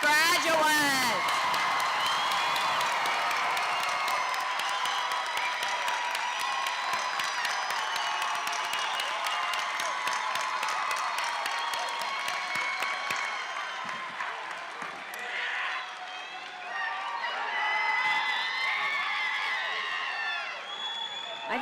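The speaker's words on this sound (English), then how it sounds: "join me to applaud and celebrate the achievement of these graduates" A graduation audience at an MSU Texas fall ceremony claps and cheers for the graduates in a long, sustained ovation with scattered whoops and shouts that fades slightly toward the end.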